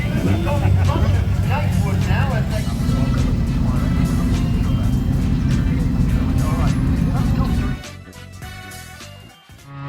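Race cars idle and move off at the start of a 45-minute race at Snetterton, a loud steady engine drone heard from inside a car with a voice talking over it, then dropping away sharply near the end.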